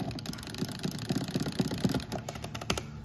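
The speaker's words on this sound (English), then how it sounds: "the buttons are clicky" Clicky buttons on a Visco mini arcade bartop are pressed in quick, irregular succession, a steady patter of small sharp clicks up close over a faint background hum.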